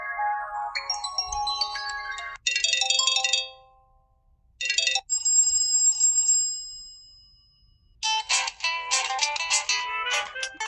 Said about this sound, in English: That's Aqua Marina.